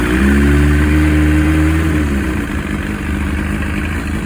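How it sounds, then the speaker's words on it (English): A 1999 Kawasaki ZX9R motorcycle engine starts up and settles into a loud, close, steady idle with a rough throaty rumble, and no one talks over it. "First just check will the bike start up without any problem."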